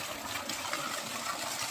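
Strong, steady rush of water pouring from a large full tank used for bathing at a rural home, a loud continuous broadband gush with no breaks.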